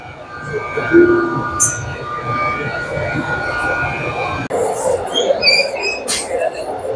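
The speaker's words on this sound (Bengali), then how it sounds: "এটা আমাদের নেক্সট ট্রেন, যেটা করে আমরা ওই পোহাং বলে জায়গাটায় যাব" A train sits and rolls at a South Korean station, a steady rail rumble with occasional wheel squeals and clanks, mixed with nearby platform noise and brief speech.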